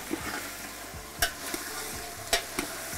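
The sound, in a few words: cauliflower being tossed and sizzling in a pan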